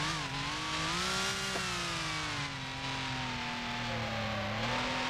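A 1955 Maserati 250F Grand Prix car, racing at Reims in the Grand Prix Legends sim, drones at sustained high revs with steady engine harmonics that shift slightly as it changes gear. No one speaks.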